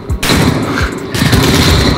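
Rapid gunfire from the Modern Warfare video game: two loud, dense bursts of overlapping shots, the second starting about a second after the first, close and sustained with no talk.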